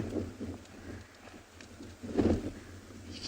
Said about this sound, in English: You can hear how windy it is.